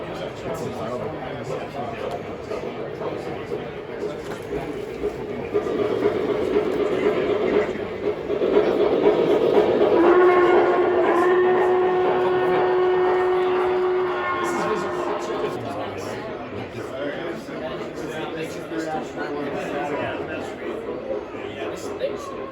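A train passes amid a large outdoor train event, with a long steady horn-like tone rising mid-clip over continuous rumble, and people chatting throughout.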